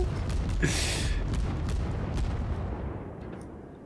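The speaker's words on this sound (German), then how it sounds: "die Schüsse, oh, die fliegen auch so schön" A deep booming naval gun shot from the cruiser St. Louis in World of Warships rolls out with a broad hiss, followed by fainter muffled thuds fading away, with no talking.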